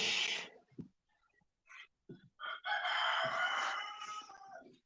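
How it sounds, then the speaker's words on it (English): A bird calls loudly beside a pond in several bursts, a short harsh cry, then scattered notes and a longer drawn-out call near the end, close and strong. "Tell us a little louder, Bird"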